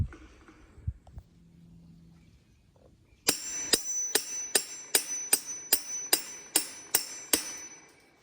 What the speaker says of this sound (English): using the hammer, I can ram that in